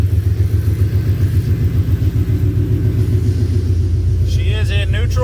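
A truck engine idles in neutral after a long warm-up, a steady low rumble close by and running throughout, with a brief higher mechanical whine rising near the end.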